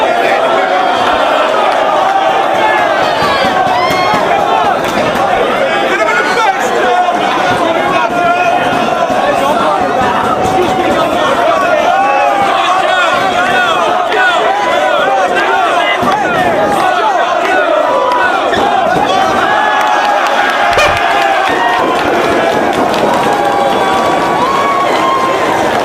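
Wrestling arena crowd roaring and cheering for Samoa Joe during a title match against CM Punk, a loud, dense wall of chanting and yelling that swells and carries on throughout.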